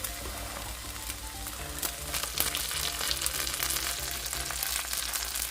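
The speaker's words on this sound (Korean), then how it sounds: "새우를 살짝 눌러주며 구워주세요." An enoki mushroom pancake with egg and cocktail shrimp fries in a pan, giving a steady, close sizzle and crackle with faint spatter pops throughout. No one speaks.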